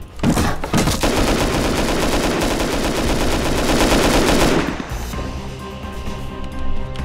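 Sustained automatic gunfire in the survival game Rust during a base raid, a dense loud burst of rapid shots for about five seconds before cutting off, leaving quieter game ambience.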